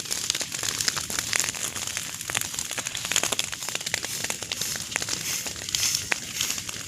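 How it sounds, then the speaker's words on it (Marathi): Dense, irregular crackling and popping from a wind-fanned fire burning brush on a farm field, steady and close throughout with sharp snaps scattered over a rushing background. "जास्त वारं असल्यामुळे ना आग पटकन पेटली आहे"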